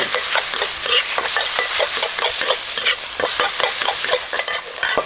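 Minced pork with soy sauce is stirred in a hot wok, giving a continuous close sizzle broken by quick, repeated scrapes and clacks of the utensil against the pan.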